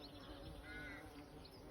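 Rooks cawing outdoors, a faint call or two at a distance over a low steady background of insect hum, with no talking.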